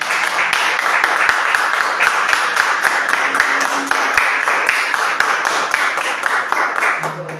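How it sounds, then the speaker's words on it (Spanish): A church congregation claps hands in a steady, fast rhythm during a Spanish-language worship service, dense sustained clapping close and loud throughout, with a brief low tone near the end. "Palmas al Señor."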